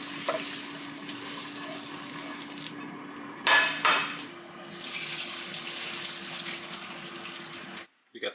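Mushrooms, onions and tomatoes sizzle in a pan with a steady, fairly quiet hiss. A couple of brief louder clatters break in midway, and the sound cuts out near the end.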